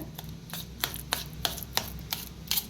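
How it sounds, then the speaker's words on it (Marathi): Roasted eggplant being finely chopped with a knife on a board for bharit, a steady series of about eight sharp, close chops at an even rhythm. "त्याला बारीक असं कापून घेऊया"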